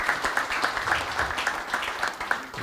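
Audience applause for Érico Ferreira at a Brazilian political event with João Amoedo of the NOVO party, a steady crowd clapping with distinct rhythmic claps standing out, moderately loud and sustained.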